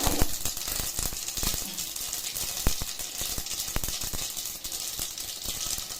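Mustard seeds, cumin and fenugreek crackle and sizzle in hot oil in a kadai while tempering for a okra and brinjal sambar, a steady frying hiss dotted with sharp pops throughout.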